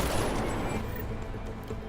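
Rapid gunfire in the video game Deus Ex: Mankind Divided, a loud, dense barrage of overlapping shots that fades slightly over two seconds.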